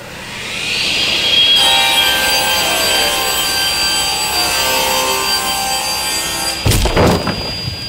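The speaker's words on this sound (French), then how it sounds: "Je vais maintenant te montrer ce qui se passe quand nous délignons du bois massif" A table saw rips solid wood with a loud, steady whining cut for several seconds, ending in a sudden rough burst as the workpiece kicks back.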